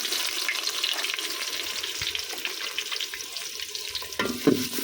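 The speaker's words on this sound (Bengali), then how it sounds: "আমি এখন একটু পেঁয়াজ কুচিটা কালার করে ভাইজা তারপরে বাকি মশলাগুলা দিব" Chopped onions fry in oil over a clay stove, giving a steady close sizzle and crackle with light stirring clatter. A sharper burst comes near the end.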